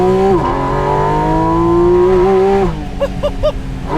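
A Porsche GT4 RS engine revs hard and close, its high, screaming note sweeping up and down in a sustained wail, then dropping off abruptly into lower idle with a few short blips near the end.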